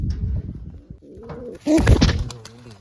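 Pigeons in a coop box coo close by in soft, throaty bursts, the calls growing louder and overlapping toward the end.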